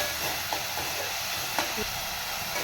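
Onions and green chillies fry in a pan for a chicken curry with broad beans, a steady soft sizzle with a few light clinks and stirring knocks, no voices.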